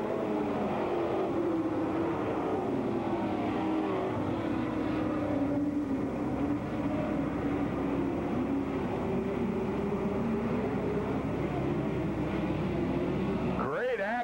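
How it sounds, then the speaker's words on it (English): Several race cars run close together in heavy traffic on a track, their engines blending into a continuous roaring drone with rising and falling pitch as they pass, and a sharp engine surge right at the end. "Great action as several of the faster cars bottled up in heavy traffic."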